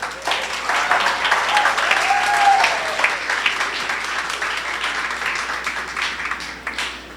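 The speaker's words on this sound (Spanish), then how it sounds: "Un aplauso, por favor, para ella" A church congregation applauds a woman at a sermon gathering, a full crowd clap that swells early and then gradually tapers over several seconds, with a brief tonal voice or whistle rising through it.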